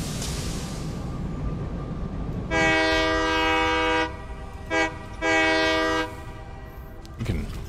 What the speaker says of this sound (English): You can honk the train horn